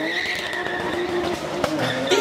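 A Porsche 911 drifts with its tires squealing, a sustained high screech mixed with engine roar, heard fairly close and continuous.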